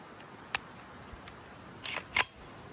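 A gun bolt being locked back on a suppressed firearm: a sharp metallic click, then a quick pair of clacks near the end, close and otherwise quiet.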